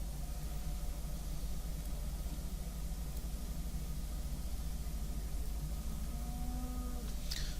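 A tractor engine in Farming Simulator 2015 hums steadily while pulling trailers, a constant low drone running throughout with no talk over it.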